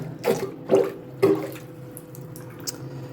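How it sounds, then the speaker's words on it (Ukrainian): Water gurgles and drains from a bathroom washbasin in three short, splashy bursts, followed by quieter trickling and faint drips. "Стекла вода"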